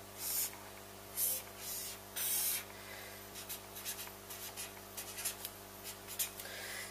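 A pen scratches across paper while a schematic for an L298N motor driver and Arduino is drawn, with short strokes and longer scribbles, close but quiet, with no talking.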